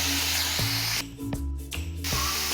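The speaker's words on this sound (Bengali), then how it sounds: "এখন বৈতাল আর আলুগুলো দিয়ে দিলাম, এগুলোকে একটু ভালো করে কষিয়ে নিতে হবে।" Eggplant and potato pieces fry in a spice paste, giving a dense, steady sizzle and hiss that briefly dips and surges as the pan is stirred, close and fairly loud with no talking.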